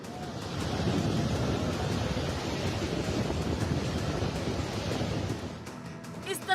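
Surging floodwater in Assam roars as a dense, steady rushing wash, loud and unbroken throughout, with faint clicks near the end.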